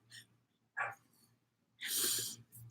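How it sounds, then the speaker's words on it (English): A neighbor's dog makes short, soft huffing and breathy bark-like sounds at some distance, a few separate bursts with quiet gaps between them. "Neighbor dog, kindly go back into your house."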